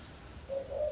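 A caged zebra dove (perkutut) gives a short, close coo, a soft tonal call rising from a quiet, slightly noisy background.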